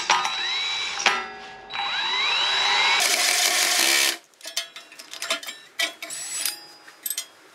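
A power drill bores a hole in a cargo trailer during a camper conversion, its motor whining up in pitch in repeated runs, then a harsh burst of cutting noise followed by short clicks and rattles.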